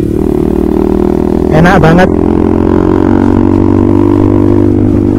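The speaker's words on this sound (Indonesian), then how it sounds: "yang saya denger tuh keras banget bro, kayak knalpot racing door gitu" A motorcycle fitted with a loud Tritec racing exhaust idles with a deep steady rumble, then revs briefly in a short rising burst before settling back, while someone talks over it.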